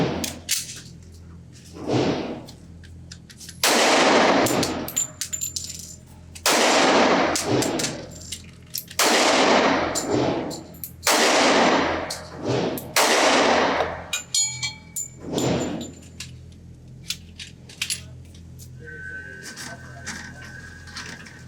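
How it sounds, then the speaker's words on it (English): Springfield Armory XDs 3.3 .45 ACP pistol firing a magazine of +P hollow point rounds at a range, loud sharp shots spaced a second or two apart, each ringing out with a metallic decay. "I'm going to put a magazine of hollow points plus P through it just to see how they function"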